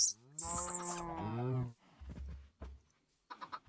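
A Minecraft cow lets out a loud, drawn-out moo followed by a few shorter grunting sounds, close and clear, with a brief burst of game noise at the end.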